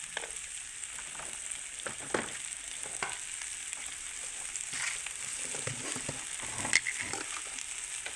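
Pumpkin pieces sauté with salt in a pan. A soft, even sizzle runs throughout, quiet and close, with occasional faint crackles and a light stir or scrape.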